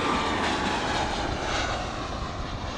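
A Delta jet airliner on flight 948 from Dallas DFW touches down at LAX, producing a loud, steady engine roar that holds for the full few seconds with no voices over it.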